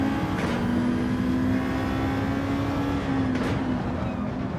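A Nissan GT-R Nismo GT500 in Gran Turismo 7 at Watkins Glen, its engine holding a steady, loud drone with a slowly rising pitch under acceleration, plus a couple of faint whooshes from passing cars.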